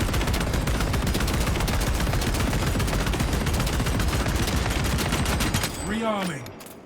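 Rapid automatic bolt rifle fire in Warhammer 40k Space Marine 2, a dense, loud, continuous burst of shots lasting about six seconds before cutting off into a brief descending whine.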